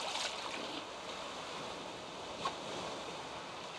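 Rough ocean waves in the Raft survival video game, a continuous rushing wash of surf and wind heard alone with a faint splash near the end.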